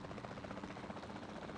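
Steady whirring rotor drone of a helicopter in the video game Jurassic World Evolution 2, constant and fairly close, with no pauses for its whole short length.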